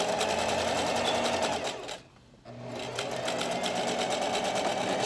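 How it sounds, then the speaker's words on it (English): A sewing machine stitches down a zipper in a steady, close run, pausing briefly partway through before starting again; no talking. "So I'm gonna go ahead and sew this down so that I can show you exactly what it's gonna look like."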